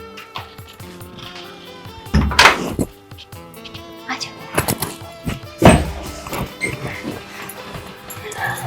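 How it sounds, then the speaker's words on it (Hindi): Two heavy thuds of a door being shut land a few seconds apart in a house, loud and close, amid people talking and shuffling nearby. "दरवाजा बंद कर दूँ।"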